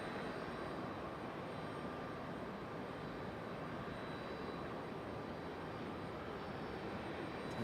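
A JetBlue jet airliner turning over Raleigh-Durham airport, heard as a steady, distant broadband roar of jet engines that holds evenly throughout with no talking.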